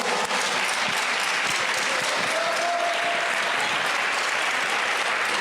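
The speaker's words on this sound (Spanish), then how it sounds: "Aplauda fuerte a Cristo, por favor." A church congregation applauding Christ during a Spanish-language worship service, a dense, steady wash of many hands clapping that fills the whole stretch, loud and continuous with a faint tone briefly audible in the background.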